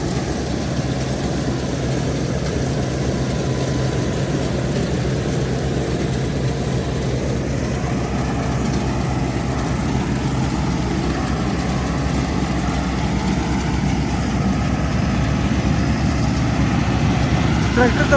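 A tractor engine drives a straw chopping machine, giving a loud, constant low drone with a steady mechanical rumble that holds unchanged throughout.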